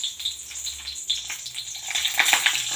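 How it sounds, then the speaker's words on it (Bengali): Two dried red chillies sizzle in hot oil in a kadai, a bright crackling hiss with scattered pops that runs steadily and close by, growing a little louder toward the end. "তেল তো গরম হয়ে গেছে শুকনো লঙ্কা দুটা দিয়ে দিলাম"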